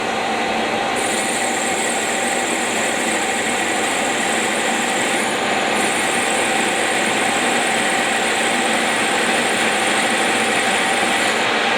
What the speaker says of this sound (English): it can take little cuts in tough steel with a carbide cutter